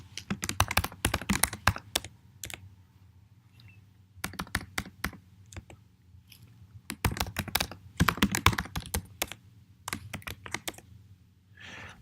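Rapid keystrokes on a computer keyboard while entering details into an online sign-up form, coming in close, crisp bursts separated by short pauses.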